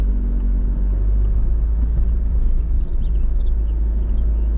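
A Skoda Yeti crawling along a rough green lane in Nottinghamshire, a steady low engine rumble and road roar from inside the car with faint rattles and bumps throughout, no talking.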